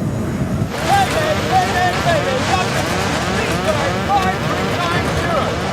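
Violent storm wind roaring through the open-windowed cockpit of a British Airways airliner during a windscreen blowout, a loud continuous rush with turbulent buffeting throughout, and a voice calling out over the roar.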